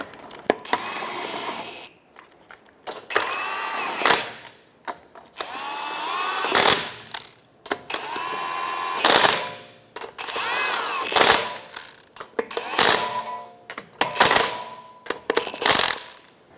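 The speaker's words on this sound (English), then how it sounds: "Put on your 5 lug nuts. Go ahead and tighten those down in a star pattern to make sure it goes evenly." A power tool tightens the five lug nuts on a 2012-2016 Subaru Impreza wheel in a star pattern: loud, close, repeated whirring and rattling bursts, each a second or two long, separated by short pauses.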